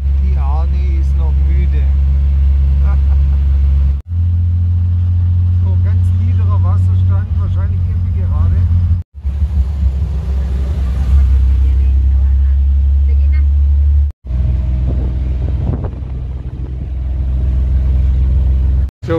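Loud engine drone and road rumble inside a multicab on a ride in Mindanao, Philippines, continuous with a few abrupt cuts, while people talk over the noise.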